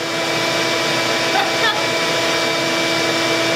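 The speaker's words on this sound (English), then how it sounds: "Started the vacuum, no problem." Household vacuum cleaner running on a Sigineer 2500 W off-grid solar inverter with MPPT charger, a steady loud motor drone holding unbroken for the whole stretch.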